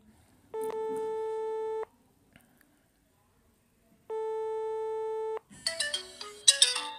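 Phone ringtone for an incoming call from a private number, two sustained electronic tone bursts separated by a pause, followed by a brief burst of higher chirpy tones at the end.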